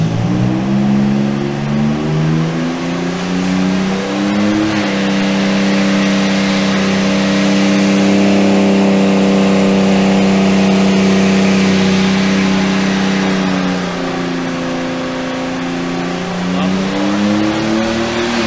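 A Nissan Z31 with a Megasquirt-tuned, boosted engine (nearly 20 psi) revs at full throttle on a dyno, a loud sustained mechanical roar whose pitch climbs, holds steady and dips slightly near the end.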